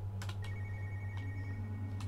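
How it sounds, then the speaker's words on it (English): Telephone ringing inside the horror video game Spooky's House of Jump Scares: a thin, sustained electronic ring tone over a low steady hum, with a few soft clicks scattered through. "There's a phone ringing somewhere."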